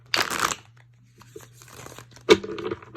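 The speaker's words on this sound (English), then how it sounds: "One more shuffle." Crisp papery riffling in two bursts, a quick flurry of shuffling tarot cards near at hand with a low steady hum and a quiet gap between.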